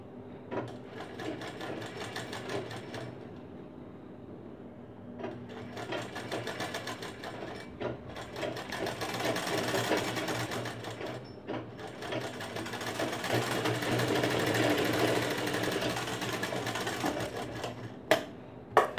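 A sewing machine stitches along the edge of blouse fabric in a long continuous run, its steady rapid whirring broken by short pauses and restarts, loud and close with no talking.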